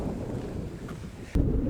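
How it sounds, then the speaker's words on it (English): Strong wind buffets the microphone at Kaena Point, a steady low roaring rumble that swells into a sharper, louder gust near the end, with no talking. "It is very windy right now."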